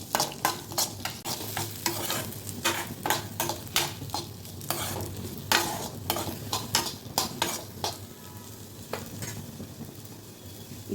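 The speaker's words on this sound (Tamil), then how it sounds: "இப்போ நம்ம எடுத்து வச்சுருந்த வெங்காயத்தை சேர்த்துக்கலாம்." Onions sautéed in a pan for a Tamil-style onion chutney, a utensil scraping and clattering against the metal in a steady, repeated stirring rhythm over a soft sizzle, close and clear with no talking.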